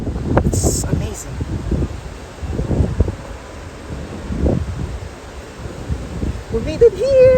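Wind in Samarkand, Uzbekistan, on a cold, drizzly day buffets the microphone in gusty rumbling bursts, with someone speaking through it.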